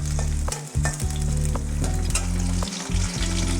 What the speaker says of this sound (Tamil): பூண்டு வந்து கொஞ்சம் வறுபட்டு வந்துருச்சு